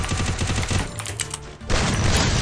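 Rapid bursts of automatic gunfire crackle loudly in a shooting video game, with a short lull partway through before another dense volley starts up, and no speech over it.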